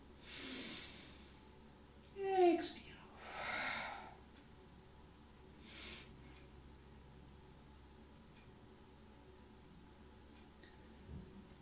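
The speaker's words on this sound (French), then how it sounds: "Prendre une inspiration un petit peu plus, plus profonde. Et on lâche l'air. Dernière fois, inspire." Breathing exercise with deep breaths: a few close audible inhales and exhales, one sharper drawn breath in, then quieter fading breaths over a soft background hiss, no speech.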